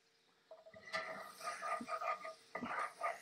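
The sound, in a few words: scraping up pan drippings in cast iron skillet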